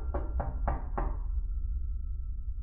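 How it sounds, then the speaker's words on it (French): Four firm knocks on a house door land in quick succession, close and clear, then fade into a quiet room tone with no talking. "a commencé à frapper à la porte"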